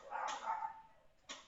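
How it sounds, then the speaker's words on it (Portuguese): A dog barks a few times in quick succession, then one more short yap after a pause, moderately close and fairly faint. "meus bebês estão meio que latindo"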